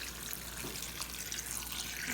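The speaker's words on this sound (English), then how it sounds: "Now I'm going to pour water until it" Water pours from a big pitcher into a pot of basic chicken soup: a soft, steady splashing trickle, quiet and close, with faint drips and no talking.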